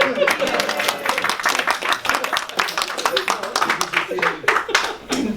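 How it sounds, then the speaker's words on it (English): Audience applause at a plenary meeting held at a restaurant, brisk clapping with some individual claps standing out, continuous and fairly close, with a few voices mixed in. "Let's applaud them."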